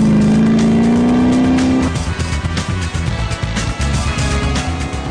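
A 1977 Aston Martin Vantage driving fast, its loud engine rising in pitch through a gear, then snarling and throbbing on under acceleration, close and dominant throughout.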